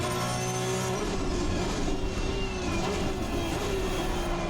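A Porsche Cup GT3 race car in Assetto Corsa Competizione, on the Nordschleife: a steady, loud engine note holds a high whine, with a pitch shift near the first second, and no talk.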